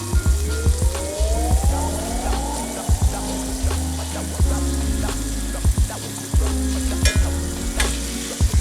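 Steak edges searing in a hot pan give a loud, close, continuous sizzle, with repeated knocks and scrapes as the meat is moved, plus some rising whine-like tones in the background.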